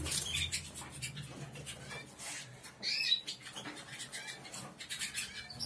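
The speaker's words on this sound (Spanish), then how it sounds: "En fin, los pajaritos." Small pet birds in a cage chirp and squawk repeatedly in short, bright, scattered calls, close by, with faint rustling and clinking in the background and no talking.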